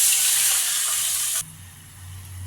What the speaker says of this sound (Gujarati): 1 કપ છાશને વઘારીશું.